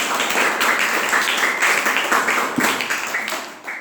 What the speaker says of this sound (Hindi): गुड, ताली बजाओ इनके लिए।